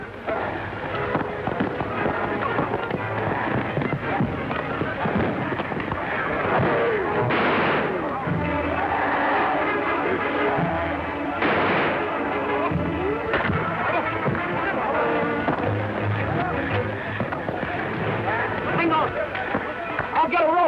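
Rifle gunfire crackles in a busy old adventure-serial shootout, with repeated bursts of shots mixed into dense background action while people shout and talk throughout.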